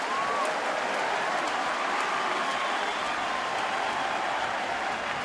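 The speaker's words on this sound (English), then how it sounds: "Crowd really getting into it now." Baseball stadium crowd at a 2011 Red Sox game cheering and applauding, a thick continuous roar of clapping and voices that stays loud and steady throughout, heard from within the stands.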